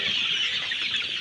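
Farm chickens cluck briefly and closely, a short burst of clucking with no talk.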